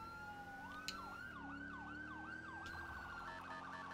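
Police siren in a video game roleplay, a steady wailing tone that rises and falls in regular sweeps, then shifts to a faster yelp near the end, loud and continuous with no talking.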